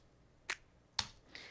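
Three sharp, dry hits of a layered clap-and-snap drum sample used in a remix, evenly spaced and alone, the last one slightly softer with a brighter, airier tail.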